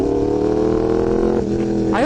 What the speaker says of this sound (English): the sound on this cross-plane engine is